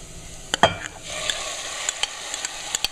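Tomatoes and their juice going into a pan of softened carrots and garlic for a yellow tomato sauce. A thud is followed by sharp utensil clinks and light sizzling and stirring, close up and without talk.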